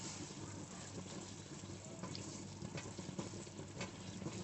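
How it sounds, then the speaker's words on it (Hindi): A spoon stirs daal mash with kasuri methi in a pot, a soft steady scraping and gentle sizzle under a constant hiss, faint and close, with no voices. "अच्छे से मिक्स कर देते हैं"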